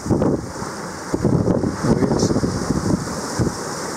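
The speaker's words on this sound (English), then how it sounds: "now we have a fresh breeze and a bit of wave" Gusty wind roars across the microphone over the wash of waves as a sailboat, reefed down, runs downwind in a fresh breeze; the noise is loud and continuous, surging in several pulses.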